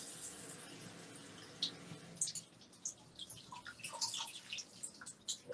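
Water trickles and drips into a can while baked stew chicken is prepared in a home kitchen, a soft, close, intermittent splashing that grows busier toward the end, with no talking over it.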